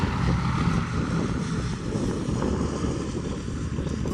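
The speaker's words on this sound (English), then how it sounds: "4 Wright Cyclone engines on the Flying Fortress." A B-17 Flying Fortress with four Wright Cyclone radial engines climbs out at an airshow after takeoff, producing a loud, steady, rumbling engine roar mixed with wind buffeting on the microphone.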